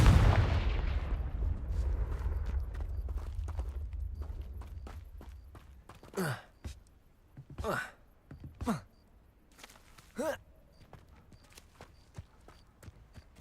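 A Confringo fire spell cast in Hogwarts Legacy lands as a loud blast at the start that fades over several seconds. Sharper cracks and swishes follow, with a voice in the background.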